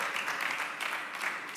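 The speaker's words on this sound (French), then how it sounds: "Applaudissez, s'il vous plaît." A live audience at a televised talent-show final claps steadily and fairly loudly, a dense wash of hands holding even throughout with a brief swell at the very end.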